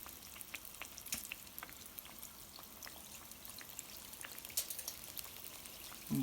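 Chicken pieces frying in hot grease for a spicy chicken sandwich, a faint, soft crackle and bubbling with scattered pops throughout.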